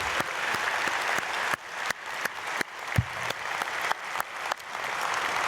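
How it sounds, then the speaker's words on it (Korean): A church congregation claps for children at a Korean early-morning prayer service, a dense burst of applause with sharp individual claps standing out, fairly close and lively throughout. "우리 박수로 축복하겠습니다."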